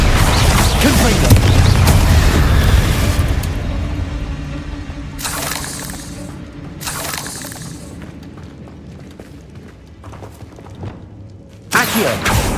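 A Confringo spell explosion in Hogwarts Legacy, with a loud booming, shattering blast that rumbles and fades over several seconds, then bursts of crashing debris, followed by a later sharp impact near the end; talk is heard under the game sounds.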